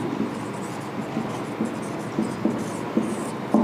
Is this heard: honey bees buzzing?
no